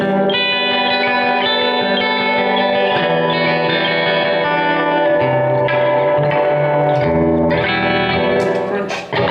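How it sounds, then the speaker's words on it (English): Clean electric guitar played through a Blackstar amp on its stock 6L6 warm clean preset, with long reverb holding ringing chords and notes steadily at a loud level, with no talking. "it's got the nice reverb hold"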